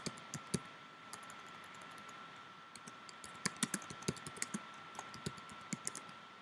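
Fingers tap away at a computer keyboard in quick, uneven bursts of crisp clicks, close and fairly quiet, with short pauses between runs of keystrokes.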